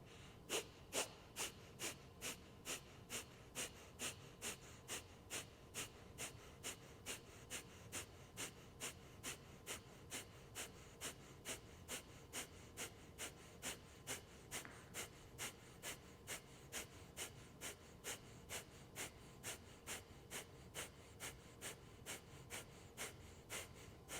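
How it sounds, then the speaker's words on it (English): Rapid, forceful nasal exhales in a steady pumping rhythm during a yoga breathing exercise, close and evenly spaced, about two per second, continuing without pause and heard alone, with no talking. "Exhale 3/4 of it out. Short, forceful exhales begin."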